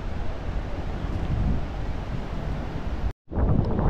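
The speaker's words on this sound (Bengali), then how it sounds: "সমুদ্রের প্রবল গর্জন শোনা যাচ্ছে এখন।" A strong, steady roar of sea surf and wind on the eroding Gangasagar coast is heard close, with heavy wind buffeting the microphone. It drops out for a moment near the end, then resumes.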